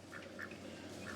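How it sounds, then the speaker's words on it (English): Ducks following people outdoors give a few short quacks, faint and somewhat distant, spaced across about a second. "You got some ducks following you too."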